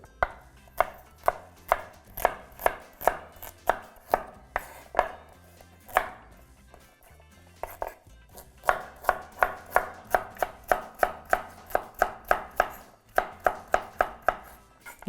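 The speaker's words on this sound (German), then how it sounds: "Karotten schneide ich nur einfach Scheiben." A knife slices carrots into rounds on a cutting board for a vegan white cabbage stew, a close, crisp run of rapid, evenly spaced chops with a short pause midway.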